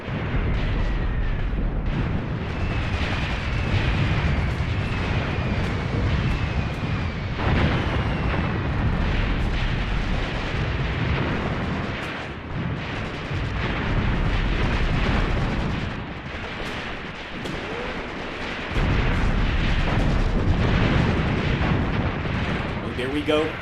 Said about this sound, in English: they're dropping artillery rounds on top of their own forces here